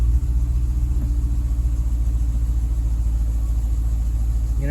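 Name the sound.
Dodge Challenger SRT 392 engine running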